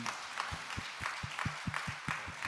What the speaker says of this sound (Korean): 우리 4분 장로님들 위해서 우리 박수 한번 칠까요?